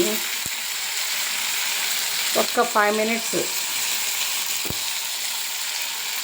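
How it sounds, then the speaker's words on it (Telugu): Tomatoes fry in a pan over medium flame for chole butter masala curry, giving a steady soft sizzle with brief stirring clinks while someone speaks briefly. "టమాటాలు వేస్తున్నా అండి టమాటాలు వేసి"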